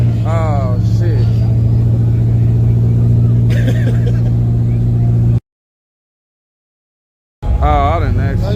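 A turbocharged drag race car on street tires drones loudly with a steady, tonal engine note, cuts out to silence for about two seconds, then returns, with voices speaking over it.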